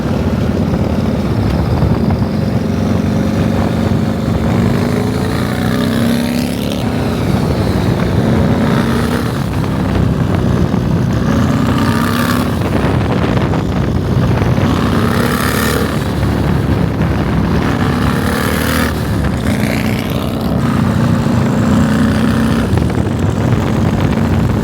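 A Harley-Davidson motorcycle fitted with a DIY at-home turbo kit out on a ride, its engine droning loudly and steadily, with pitch rising and falling repeatedly through acceleration and shifts under constant wind noise.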